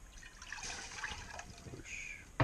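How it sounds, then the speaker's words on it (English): Pre-measured water is tipped from a measuring cup into a pot at an urban campsite, a brief, gentle splashing pour that ends with a sharp knock. "And we dump our pre-measured water."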